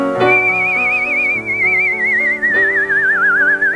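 A clear, sustained whistled melody with a wide, wavering vibrato, carried over a soft instrumental backing that keeps playing beneath it.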